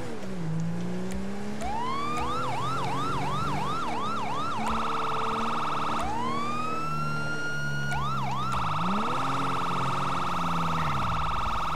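A video-game police siren wails through repeated rising yelps, then switches to long sweeping tones and back, loud and close over a steady engine hum.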